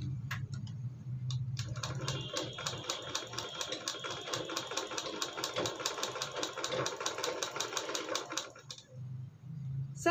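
A sewing machine stitching folded blouse fabric runs in one steady, rapid mechanical rattle for about seven seconds, with a low motor hum before and after the run.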